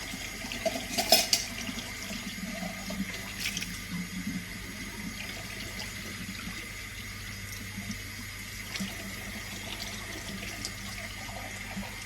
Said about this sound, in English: Rinse my measuring spoons and recycle the cans.